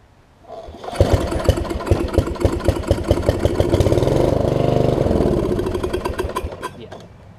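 A Snapper RER riding mower with a carburetor problem cranks and catches, its small engine chugging in a rapid loud pulse, briefly revving smoother for a few seconds, then winding down and dying out.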